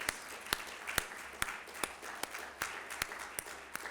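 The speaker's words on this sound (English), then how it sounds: "I ask you to give us all, our colleagues, a wonderful round of applause" A quiet round of applause from the audience at a university faculty excellence celebration, soft continuous clapping with a few sharp, distinct claps standing out at irregular intervals.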